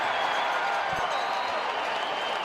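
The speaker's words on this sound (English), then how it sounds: "big crowd at Commonwealth" Spectators at a CFL football game between the Saskatchewan Roughriders and Edmonton Eskimos at Commonwealth Stadium roar and cheer as one steady, far-spread wall of crowd noise that holds throughout, with a couple of faint thumps underneath.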